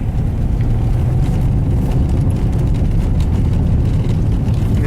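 A 2001 Pontiac Bonneville with a wheel bearing fault and engine misfire rolls down the road, a steady low cabin drone of engine and tire rumble at constant level, with no talking.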